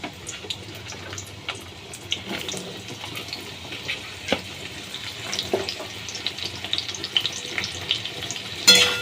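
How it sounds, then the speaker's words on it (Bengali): Chopped onions frying in hot oil in a home kitchen for a Bombay duck fish curry give a steady, soft sizzle with scattered crackles and occasional stirring, close and alone without talk. "এবার আমি তেল গরম করতে দিয়ে দিয়েছি। তেলের মধ্যে পেঁয়াজগুলো আমি দিয়ে দেবো।"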